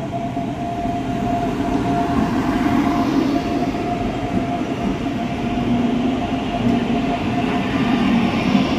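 The Secunderabad SF Express, a train of locomotives and wagons, rumbles past loudly and steadily with a continuous roar of wheels on rails and a faint tonal hum, no voices.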